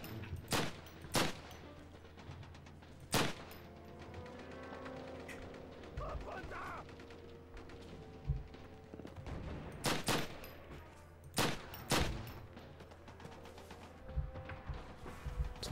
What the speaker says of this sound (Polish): I do mnie strzelają.